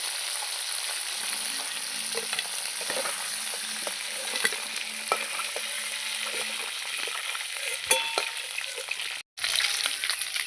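Crabs frying in oil in a pan, fried until red, with a steady close hiss and scattered crackles, a few utensil scrapes and knocks, and a brief cut near the end.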